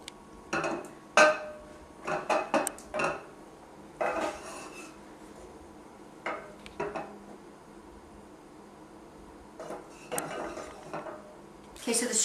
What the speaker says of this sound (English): we're going to mix that together, and we're going to make a roux